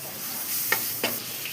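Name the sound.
tomatoes added to hot pan, sizzling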